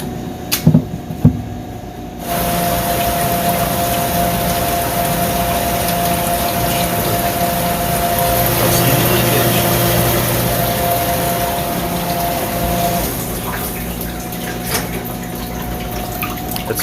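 A Fagor dishwasher fills with water, its pump running in a steady, loud whir with rushing flow after a brief clatter at the start, continuing unbroken before easing slightly near the end.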